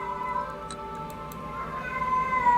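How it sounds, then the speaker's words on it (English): A cat yowls in drawn-out, wavering cries somewhere in the background, with faint ticking clicks over it. "That's a cat in the background screaming."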